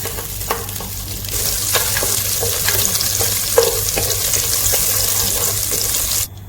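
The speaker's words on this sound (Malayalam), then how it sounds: "പാൻ ചൂടായി വന്നിട്ടുണ്ട് ഇതിന്റെ അകത്തേക്ക് നമുക്ക് രണ്ട് പീസ് ബട്ടർ ഇട്ട് കൊടുക്കാം" Butter sizzles and fries steadily in a hot pan before chicken is cooked, a continuous close crackling hiss with a few light stirring clicks, no talking.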